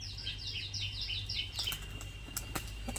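A female pigeon, red-marked with white eyes, doing flight play: rapid repeated high chirping flutters, then a few sharp clapping bursts over steady background noise.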